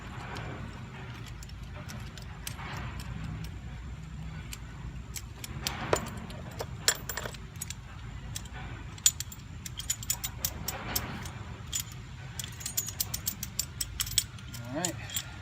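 A spring compressor is threaded onto a third-gen Camaro control arm, giving soft, faint metallic clicks and ratcheting taps that grow more frequent, with a low background hum throughout.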